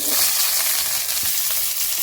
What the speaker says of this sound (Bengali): শুকনো রঙের ফোড়ন দিয়ে দিচ্ছি পেঁয়াজ কুচিগুলো দিয়ে দিচ্ছি